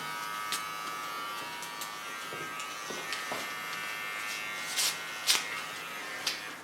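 Electric clippers buzz steadily while shaving a clean neckline on a fresh summer bob haircut, a thin continuous hum close by with a few brief sharper snips and touches near the end, no talk.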